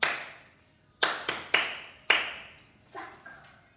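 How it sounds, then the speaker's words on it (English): Four sharp hand claps ring out close and fairly loud, one alone, then a quick pair, then a final one, each with a short echoing decay, followed by a softer tap. "let me clap for you."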